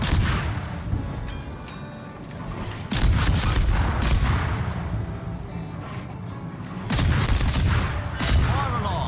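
Heavy naval gunfire booms in a warship video game, with loud repeated cannon blasts and rumbling salvos arriving in clusters over a continuous battle din.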